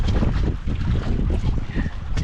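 Strong wind roars and buffets the microphone in a continuous low rumble, loud and gusty, with a hint of water movement.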